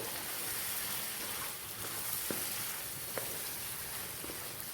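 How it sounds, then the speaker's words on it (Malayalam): Chicken roast simmering in a pan as thick coconut milk goes in and the mix is stirred, giving a soft steady sizzle like light rain, with a few faint clicks of a spoon against the pan. "അതുകൂടെ ഒഴിച്ചു കൊടുക്കാം. നല്ലതുപോലെ ഇളക്കി കൊടുക്കാം."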